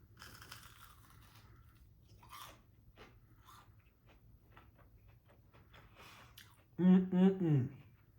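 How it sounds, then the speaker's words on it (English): Three loud, crisp crunches of biting into fried fish pakora come near the end, after a stretch of quiet with soft clicks and mouth sounds. "Yep, that's kind of crunchy."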